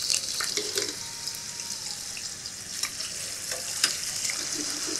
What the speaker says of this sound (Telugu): సో గ్రీన్ పీస్ని లైట్గా ఆయిల్ ఇట్లా బ్లాంచ్ చేసి తీసేద్దాం అంతే.